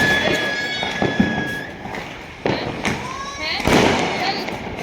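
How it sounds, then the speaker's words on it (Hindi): Diwali firecrackers burst at home in a few sharp, loud cracks and thumps, one whistling as it flies, while people talk and call out close by. "तो भाई अब बारी आती है पटाखे जलाने की।"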